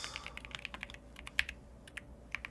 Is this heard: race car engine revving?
no